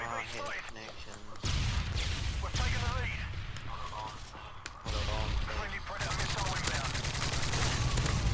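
Rapid automatic gunfire bursts in a first-person shooter game, with dense rattling volleys and impacts that are loud and continuous, mixed with game sounds and someone talking over them.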